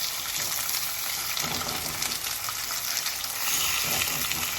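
Oxtail browning in a little oil in a pot gives a dense, steady sizzle and spatter, close and fairly loud throughout, with no voices.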